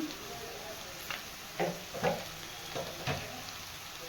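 Ground cumin and coriander frying in a pan. A faint, steady sizzle carries a few soft stirring scrapes at intervals, heard close up.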